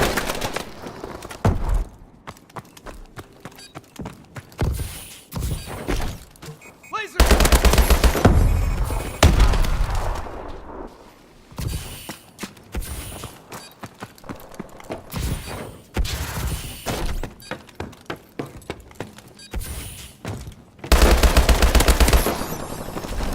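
Bursts of rapid automatic fire from an HBRA3 rifle in Call of Duty, close and loud, arrive in repeated volleys separated by short quieter gaps holding distant shots and game ambience.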